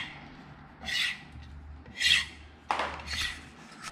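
A knife edge is sharpened and polished into fine serrations, giving a few close, raspy rubbing strokes that rise and fade, with short pauses between them and no voices.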